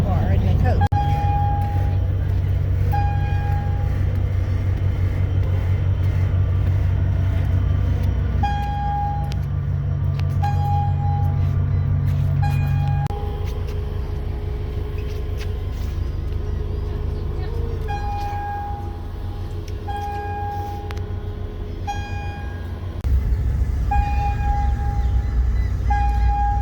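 Aboard the Cape May–Lewes ferry as it pulls away from the dock, a deep diesel rumble steadies and shifts, with repeated high mechanical tones and intermittent clanks over a constant loud drone, and a voice talks intermittently.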